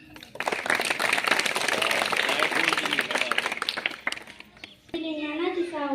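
A school audience at a children's assembly in a Zilla Parishad primary school in Bachegaon claps in a steady, loud burst for about four seconds, then the clapping dies away and a voice takes over.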